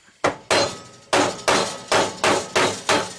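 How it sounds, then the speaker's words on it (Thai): Seven sharp hammer blows strike in a steady rhythm, each a loud, close crack with a short ringing decay, while the joint of a sanding belt is hammered together; no talking. "ถ้าตอกอย่างนี้จะแตกนะครับ"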